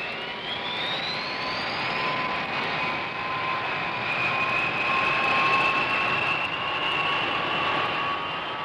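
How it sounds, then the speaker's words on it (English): B-52 bombers taxiing out for a Strategic Air Command mission, a sustained loud jet engine roar with a rising high-pitched whine, steady and continuous with no voices. "Everything ready, the B-52s taxi out and are soon on their way."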